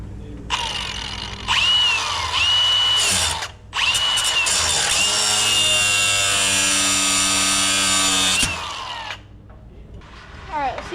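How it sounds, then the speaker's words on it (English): An angle grinder cutting a nut off a racing mower whines loud and close in long sustained bursts, with short pauses and a pitch that dips under load, then winds down at the end. "So I'm gonna go grab the grinder"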